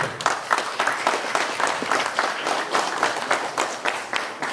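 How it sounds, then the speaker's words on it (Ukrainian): Audience applause at a Greco-Roman wrestling championship ceremony in Dolyna, a steady wash of many hands clapping for several seconds with no talk over it. "Оплески."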